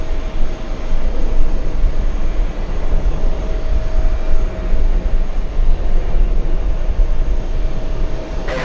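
A plane races down the runway at JFK airport with a loud, steady jet roar that fills the whole stretch, and no voices are heard.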